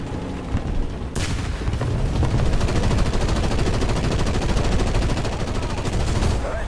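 Rapid, sustained aircraft cannon fire in the War Thunder combat game, starting abruptly after a quieter second and continuing as a loud, dense burst of shots for several seconds.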